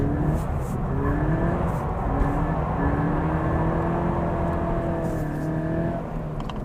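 A Toyota GT86 sliding around under throttle, its engine droning steadily with rising and falling revs and tyre noise, close and continuous throughout.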